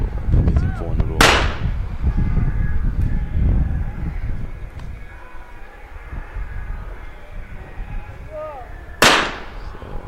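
Two loud, sharp shotgun blasts at a shooting World Cup competition in New Delhi, spaced several seconds apart over background crowd murmur and people talking.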